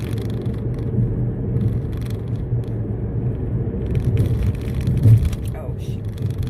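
A car rolling over potholed road, heard from inside as a continuous low rumble with a few heavier thumps and rattles, the loudest jolt near the end.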